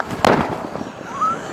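A 200-gram paper firecracker bursts inside a tea pot outdoors, one sharp loud bang with crackling debris, then a faint rising whine as things settle.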